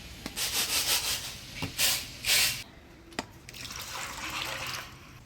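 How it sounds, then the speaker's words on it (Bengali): Lentils (dal) being rubbed and rinsed clean in water by hand, a series of close, soft swishing and grainy scrubbing strokes with sloshing water, interrupted by a sharp knock partway through. "ডালটা পরিষ্কার করে ধুয়ে নিলাম"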